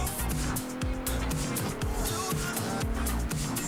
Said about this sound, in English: This is an F1 car.